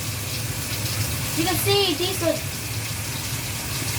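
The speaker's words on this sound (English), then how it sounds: "the machine starts to fill up with water" A five-year-old washing machine fills with hot water, a continuous gushing, running-water hiss under brief speech.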